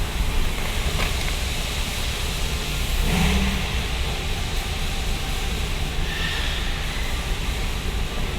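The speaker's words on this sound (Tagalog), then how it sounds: "May nagka-car wash din sa loob na parking lot. Kaya maingay." Car wash machinery running inside a parking lot, a loud, steady broadband roar and whoosh filling the space with faint clanks, continuous throughout without talking.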